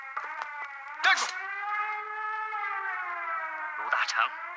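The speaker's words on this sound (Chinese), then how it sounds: "空袭警报，赶快隐蔽。" An air raid siren wails steadily and loudly throughout a wartime scene in a Chinese film, with brief bursts of shouting voices over it.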